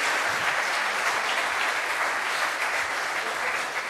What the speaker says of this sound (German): wird geklatscht